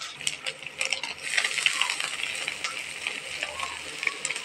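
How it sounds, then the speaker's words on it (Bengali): Chopped khesari greens are tossed into a pan of frying chili and onion with fish bones, producing bright crackling sizzle and scraping stirring clatter, with irregular clinks and bursts of hissing throughout. "এখন আমি শাকগুলো দিয়ে দেবো।"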